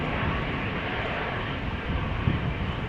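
An EasyJet airliner approaches Amsterdam Schiphol on a wet, windy day, its engines a steady, fairly loud broadband roar that holds evenly throughout with no talk over it.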